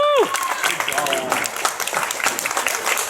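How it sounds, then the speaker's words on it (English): Steady applause from a convention audience at a question-and-answer session, with a whoop at the start and scattered cheering over a dense wash of clapping. "Round of applause for yourselves in that regard."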